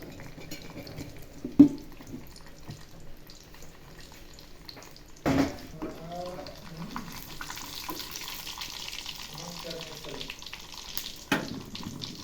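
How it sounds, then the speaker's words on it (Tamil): Mustard seeds crackle in hot oil over a faint steady sizzle, with a few sharp pops scattered through and quiet background voices. "கடுகு வெடிக்கட்டும்."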